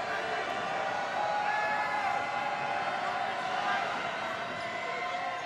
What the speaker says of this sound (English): Goes to the line for a second shot as the Baruch crowd gets loud.